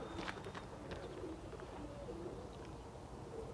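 Soft pigeon cooing and a few faint chirps over a steady outdoor hiss, distant and low in level.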